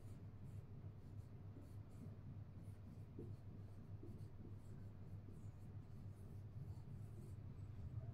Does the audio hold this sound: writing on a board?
yes